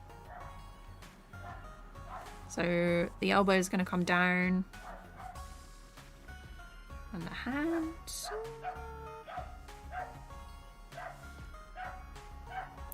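A neighbour's dog barks and yips outside, a short loud burst of several barks early on, then fainter yelps later, with a person talking indoors over it.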